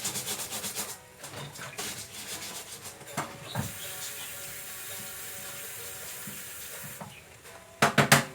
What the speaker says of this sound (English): Wash off the spatula.